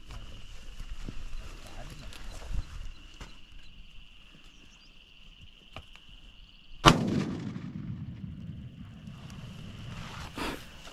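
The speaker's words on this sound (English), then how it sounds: "Unfortunately, a second shot was needed to put the springbok down." A second rifle shot at a springbok during an African hunt: one sharp, loud crack partway through with a short rolling echo, set against faint outdoor quiet and distant soft voices.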